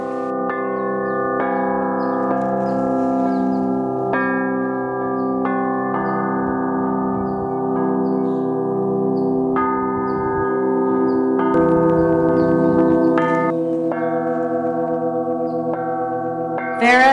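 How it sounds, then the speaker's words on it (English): Tuned musical bells played by a woman ring in sustained, overlapping tones with a steady, echoing resonance, a continuous melodic ringing that fills the whole stretch. "hypnotizes us with her musical bells, and she enchants the birds who answer to her music by responding in song"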